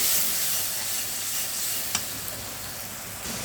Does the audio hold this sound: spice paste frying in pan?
yes